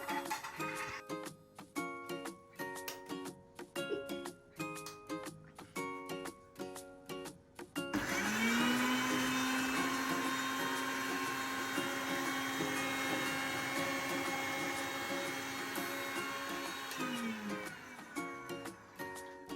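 A mixer grinder runs on cumin and garlic, starting after a stretch of rhythmic clicking and tapping. The motor then whirs loudly and steadily for about ten seconds with a sustained whine before winding down.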